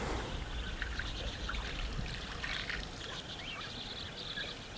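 Permanent spring water trickling and pouring out of a small cave system beside the Finke River, a steady close wash of running water across the whole stretch.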